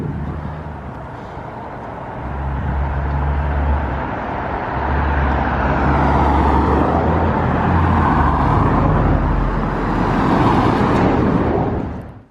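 A car drives along a street in New Orleans' Garden District, its engine hum and road noise loud and steady from inside the car, with low rumbling surges that swell and fade.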